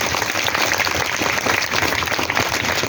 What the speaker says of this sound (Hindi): कृपया सभी के लिए जोरदार तालियां बजाएं।